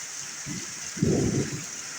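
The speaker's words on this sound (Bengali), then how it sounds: "কি পরিমাণ হাওয়া বাতাস করতেছে আর কি পরিমাণ বৃষ্টি পড়তেছে" Heavy rain under strong wind: a constant hiss of falling water broken by two low, rumbling gusts buffeting close by, the second longer and louder, with no talking.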